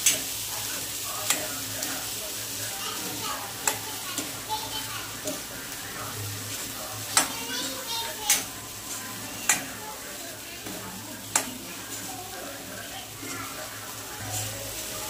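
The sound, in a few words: eggplant sautéing and stirring with spices in pan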